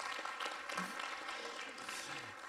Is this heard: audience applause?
yes